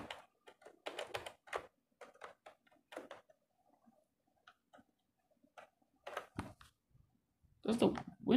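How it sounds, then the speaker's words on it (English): Typing on a BlueFinger RGB backlit keyboard: scattered bursts of quiet, close keystroke clicks separated by pauses, ending in a louder flurry. "Let me check something on the keyboard."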